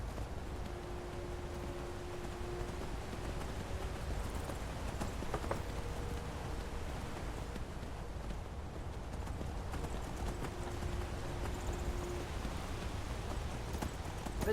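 Quiet, steady hoofbeats clip-clop along at a trot, faint under a soft ambient hiss, from a horse in the video game Skyrim Anniversary Edition.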